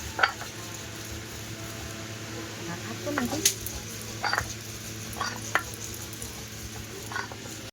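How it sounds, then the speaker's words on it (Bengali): Small fish fry in a pan, with a low steady sizzle under scattered sharp clicks and knocks of a utensil, fairly quiet and close. "ছোট মাছগুলো ভাজায় দিয়ে দিই"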